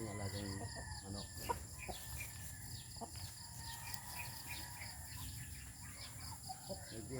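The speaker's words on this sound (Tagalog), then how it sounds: "Ang ating alagang manok." A chicken clucks and calls outdoors at moderate distance around a quarter to six in the morning, with scattered bird sounds and a faint background hum; no clear talking.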